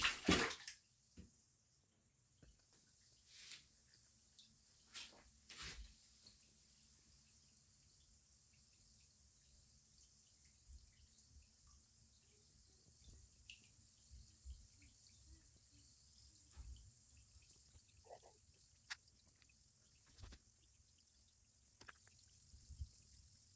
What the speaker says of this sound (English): And it's still fizzing